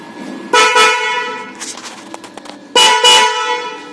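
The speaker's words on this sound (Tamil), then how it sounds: "இப்போ வந்து ஹார்ன் வந்து அடித்து பார்ப்போம்." Horn on a Bajaj Pulsar NS200 motorcycle, sounded in two loud, close blasts of about a second each, separated by a short pause with faint background noise.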